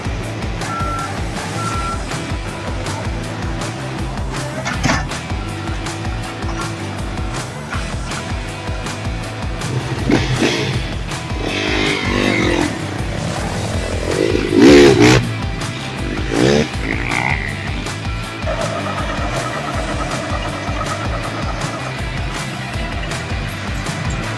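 Dirt bike riding on a freshly built track, with an engine revving and buzzing through jumps amid loud, insistent reversing beeps from a truck or bulldozer working nearby.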